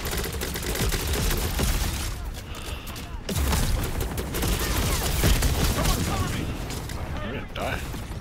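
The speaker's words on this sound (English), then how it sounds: "Shooting behind you, Niz." Continuous gunfire and explosions fill a match of the video game Concord, with dense rapid shots and booms throughout. Players talk over the combat.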